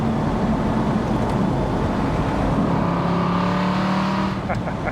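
A rare 2008 Aston Martin V8 Vantage N400 driven on the road, its V8 exhaust droning and rising in pitch under acceleration, loud and close with talking over it.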